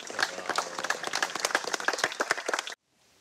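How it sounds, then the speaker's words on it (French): Audience applauding a firefighter at a fire brigade ceremony: dense, steady clapping from many hands for under three seconds, then cutting off abruptly to silence. "Et je pense que tu peux être applaudi."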